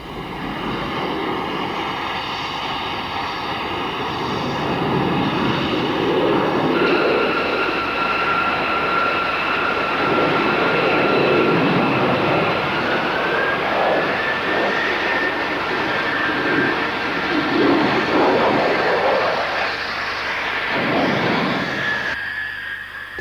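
A Northrop B-2 all-wing bomber taxis out, its jet engines giving a loud, continuous droning roar with a rising whine, close by and steady throughout.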